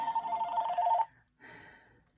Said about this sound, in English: Oh, there goes my telephone. Hold on just a second. Let me stop that ringing.